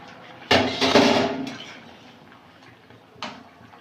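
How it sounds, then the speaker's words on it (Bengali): A lid comes off a cooking pot of katla fish curry with lentil dumplings, potato and kohlrabi in a village kitchen. Two sharp clanks sound near and fairly loud, with a quiet pause between them. "ঢাকনাটা খুলে নেব।"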